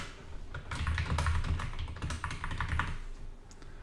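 Rapid clattering keystrokes on a computer keyboard while a script is being written, close and continuous over a faint low hum.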